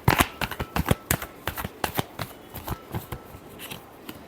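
Tarot cards are riffled and shuffled in a run of quick, crisp flutters and taps, close and fairly quiet, with no voices.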